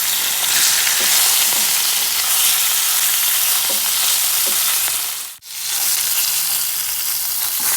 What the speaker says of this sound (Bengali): একটু ভাজা হয়ে গেলে আমি আরেকটু উল্টে দিচ্ছি।